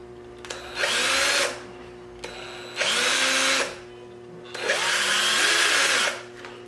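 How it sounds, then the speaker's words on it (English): A power drill whirs in three bursts of about a second each, tightening screws fitted with nylon-insert safety nuts while rebuilding Dynaco Mark III tube monoblock amplifiers, with brief pauses and a steady electrical hum between runs. "I'm securing all the screws with these safety nuts. I like these things, the nylon inserts."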